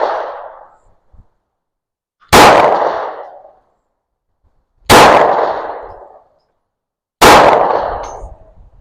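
Shots from a Taurus 709 Slim pistol fired at a 5-yard target: three loud, sharp reports spaced a few seconds apart, each ringing out in a decaying tail, plus a fainter earlier blast.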